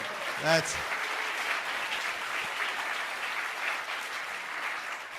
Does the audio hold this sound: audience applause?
yes